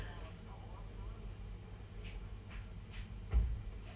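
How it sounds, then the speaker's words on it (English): A car door shuts outside a house with one muffled, low thump near the end, heard faintly through walls over a steady room hum. "I just heard the car door."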